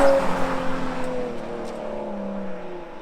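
A Lotus Exige V6 S with a 3.5-litre engine, heard loud and close as a steady, strong engine note whose pitch slowly drops and eases off over a few seconds.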